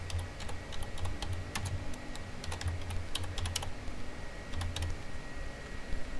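Computer keyboard keys are tapped in short, quick bursts with brief pauses between them while data is entered into a Microsoft Access table. The clicks are close, crisp and fairly quiet, over a faint background hum.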